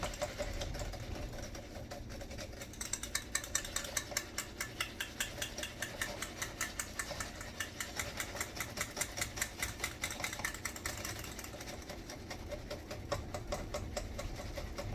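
A whisk clatters quickly and steadily against a container while tea mixture for grape-cherry wine is stirred, a fast ticking rhythm that runs on for a long stretch at moderate volume, close and alone.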